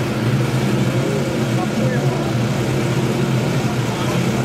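A 5-litre racing hydroplane, Miss Beauharnois, roars through the final turn of a race at Beauharnois, a continuous broad engine roar over water heard at a distance, with a commentator talking over it.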